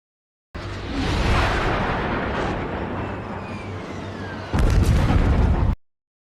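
Soldiers demolishing bridges with explosives in a film: a long deep rumbling blast that rolls on for several seconds, then a second louder detonation near the end before sudden silence.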